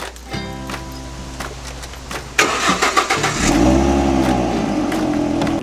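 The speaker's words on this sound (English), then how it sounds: "Call that an exhaust? Listen to this." A V6 Mustang starts with a crank and catch, then its exhaust barks through several sharp revs before settling into a loud, close, steady high idle.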